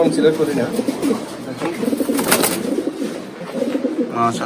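Black Lahore pigeons on a pigeon farm, with several birds cooing in low, overlapping murmurs throughout and a steady background bustle of the loft.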